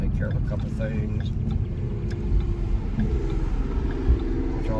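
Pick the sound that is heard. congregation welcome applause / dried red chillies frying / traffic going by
traffic going by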